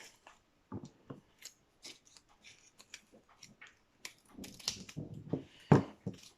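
Scissors cutting paper for scrapbooking, close and quiet, with a series of short snips and crunches that grow denser and louder near the end, and no speech.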